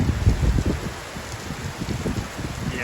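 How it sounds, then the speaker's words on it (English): Steady rain pattering outdoors, a dense close wash of drops hitting surfaces with slight wind, no voices. "Yeah, I think that's raining."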